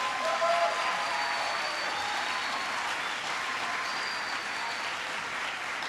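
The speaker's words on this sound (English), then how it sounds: "give them all a big round of applause" Crowd at a speaking event in Madison, Wisconsin giving a sustained round of applause, even and moderately loud throughout with no talking over it.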